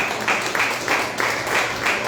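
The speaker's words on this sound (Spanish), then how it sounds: "Este aplauso es para mi Señor." A church congregation during a sermon claps together in a regular beat, roughly three strong pulses per second, loud and close, forming a steady rhythmic pattern with no talking.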